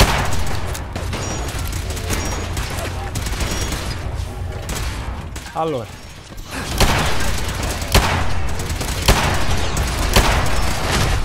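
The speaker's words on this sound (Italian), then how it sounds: "L'ha fatta piccola l'esplosione." Fallout 4 Automatron combat erupts with a burst of game gunfire and booming blasts, including a smaller explosion, loud and dense, while someone talks over it.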